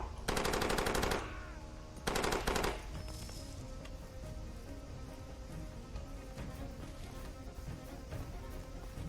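A mounted turret machine gun firing in Far Cry 2, two loud sustained bursts of rapid automatic fire close up, followed by lingering rumble and scattered distant shots.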